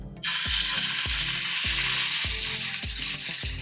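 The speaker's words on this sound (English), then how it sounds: "Press it down with your fingers to make sure that it's stuck and searing with the pan." A seasoned NY striploin steak sears in a hot pan with a loud, constant sizzle that starts abruptly, broken by repeated low thumps and bumps at roughly half-second intervals.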